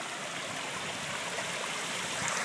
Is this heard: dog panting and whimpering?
no